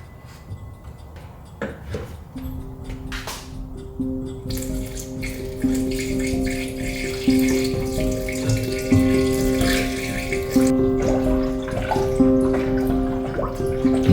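Water pours steadily into the cooling system of a Mitsubishi Evo X that has sat unstarted for 10 years, a continuous close splashing and gurgling flow with rising tonal filling notes and no talk.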